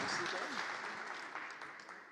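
Audience clapping at a startup pitch night, a dense, fairly faint patter of many hands, heard from a distance and slowly tapering over a couple of seconds, with a voice faintly mixed in.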